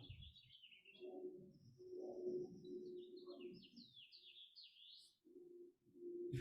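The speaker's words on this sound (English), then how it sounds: "There's a lot of birds communicating right now." Birds chirping and trilling outdoors in short bright bursts, with a low hum and rumble of background noise beneath them.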